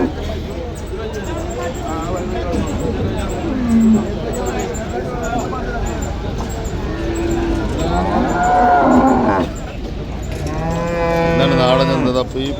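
Cows moo repeatedly, some near and some farther off, over a steady hubbub of people talking and milling around outdoors at the Perumpilavu cattle market.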